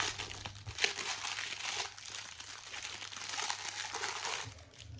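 Someone opens a crinkly package wrapper on a lipstick-style stick product, producing close, continuous crackling and rustling with a few sharper crunches, no voices.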